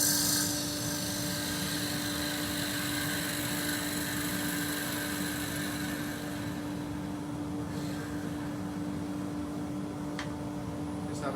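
A wood lathe spinning steadily while a Crown Cryo gouge cuts the workpiece, a continuous loud whirring drone with a fixed hum and rough cutting noise throughout, a couple of faint clicks near the end.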